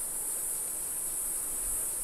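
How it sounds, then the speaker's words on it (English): Cicadas buzzing loudly in South Africa, a dense, continuous high-pitched shrill that fills the surroundings without any break. "The sounds you can hear all around us are made by cicada bugs."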